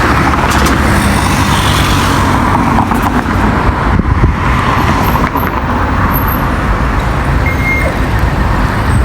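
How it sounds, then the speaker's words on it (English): Dense road traffic at a city crossing in Cape Town, South Africa: a steady, loud roar of cars and heavier vehicles rolling past nearby, continuous throughout with no break and no voices. "a lot of traffic here"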